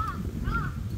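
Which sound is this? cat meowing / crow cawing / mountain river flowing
crow cawing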